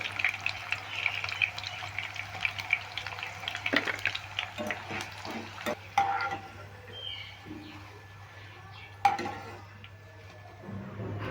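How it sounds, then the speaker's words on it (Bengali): Potato pieces sizzling in hot oil as an ongoing batch fries, a soft steady crackle under occasional clinks of a metal strainer and utensil scrapes, with a few sharper knocks. "এবার বাকি আলুগুলো এই একইভাবে ভেজে নিচ্ছি"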